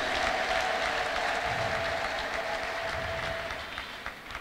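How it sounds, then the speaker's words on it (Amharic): A church congregation claps together in praise, a broad, continuous wash of applause from the crowd heard from a distance, holding steady before gradually tapering off near the end. "አጨብጭቡ ደግማችሁ ለዚህ ጌታ"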